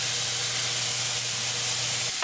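Corn masala hisses and sizzles in a pan while being stirred, a steady, close frying sound with no talking.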